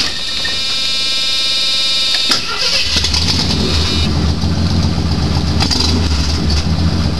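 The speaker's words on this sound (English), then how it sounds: "start the motor" AMC Gremlin engine fitted with a hydrogen generator starts: a whining starter crank for a couple of seconds, then the motor catches and settles into a loud, rough, steady idle.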